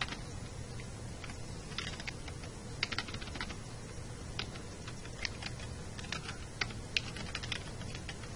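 Typing on a wireless computer keyboard, a steady patter of quick, light key clicks with a few sharper taps, close and alone with no voices.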